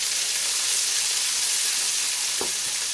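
Steady, loud sizzling of chickpea masala frying in a pan, a continuous hiss with a brief stir or scrape near the end.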